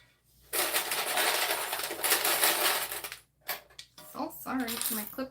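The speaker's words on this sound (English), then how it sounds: "My clips are so loud." Plastic sewing clips click and clatter loudly in a dense, continuous burst for about three seconds while a bag is being sewn. A short pause follows, then more handling noise with a voice briefly heard.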